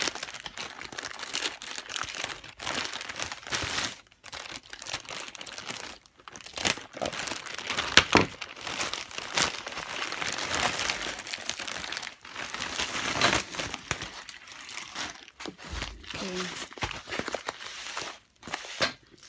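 A crinkly plastic mail package from China is cut and torn open, with close, continuous crumpling, rustling and crackling that comes in uneven bursts with short pauses.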